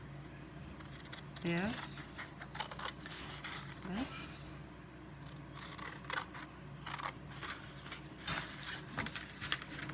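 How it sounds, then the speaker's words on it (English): Large scissors cut through paper for a Christmas treat box ornament, giving a few quiet, crisp snips and slides amid soft handling noise while a person talks. "So I'll take my large scissors."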